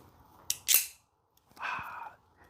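Two sharp metallic snaps ring out close by, then a brief scraping slide follows after a short pause, like a blade being flicked open and moved.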